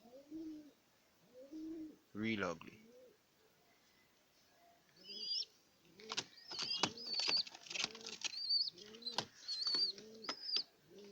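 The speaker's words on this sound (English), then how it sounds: "these are some ugly pigeons." Pigeons with young squabs coo repeatedly at close range, soft throaty calls in short rhythmic bursts, joined later by higher chirps and squeaks as someone briefly speaks nearby.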